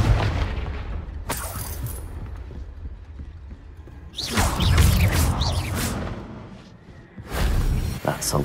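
Confringo fire-blast spell in Hogwarts Legacy, a few booming whooshing bursts over a rumbling game backdrop, loud and close, with brief talk at the start.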